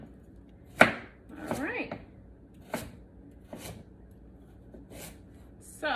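Carrots or broccoli chopped on a cutting board with a knife, several sharp separate chops spaced across a few seconds, close and fairly loud, with a short spoken remark in between.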